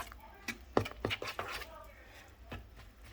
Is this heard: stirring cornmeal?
yes